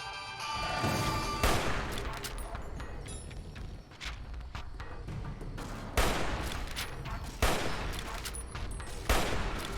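Rapid bursts of gunfire in Fallout New Vegas, played in hardcore mode while fighting deathclaws, crackle steadily and loudly for the whole stretch, with sharp louder shots standing out against a dense, continuous barrage.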